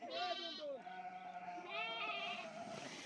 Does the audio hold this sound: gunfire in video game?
no